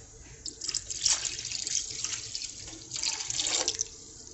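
Water splashes and runs into a cooking pot in two bursts of pouring, about 2.5 cups for pig-ear souse, close and moderately loud, with a short pause between.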